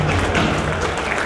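Audience applause at a retirement ceremony, a steady wash of many hands clapping together throughout, fairly loud and dense with no distinct voices over it.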